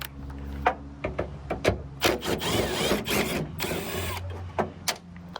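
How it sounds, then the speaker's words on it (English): A socket wrench removing two 10mm bolts while installing a backup camera washer on a car, with close ratcheting clicks and mechanical rattles in uneven bursts and a longer grinding stretch in the middle. "what you're going to need is a 10mm socket, and you're going to be taking out these two bolts right here"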